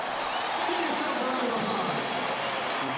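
A large stadium crowd at a Barcelona versus Manchester City football match gives a steady, broad roar and murmur, with a voice speaking over the din.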